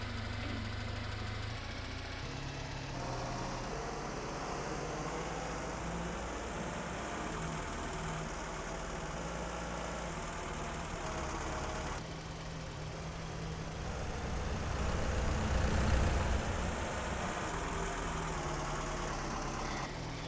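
A car engine idles steadily in Farming Simulator 22, a continuous low mechanical drone with a brief swell in loudness midway, alone with no talk.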